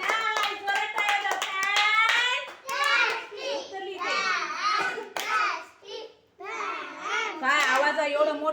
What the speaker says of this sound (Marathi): बरं टाळ्या